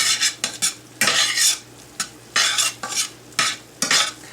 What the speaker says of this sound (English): Just mix it up really well.